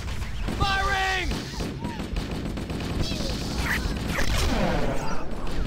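Heavy gunfire in the shooter game Halo, overlapping shots and impacts crackling amid whistling, warbling weapon and alien effects, with voices calling out in between.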